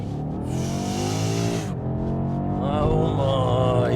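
A BMW M8 Competition's V8 engine roars as the car accelerates hard, the pitch climbing through the gears with a brief drop at a shift, heard loud from inside the cabin.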